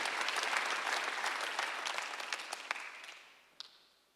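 A church congregation applauds during a Sunday worship sermon, a dense wash of many hands clapping together that holds steady, then thins and fades away with a last few scattered claps.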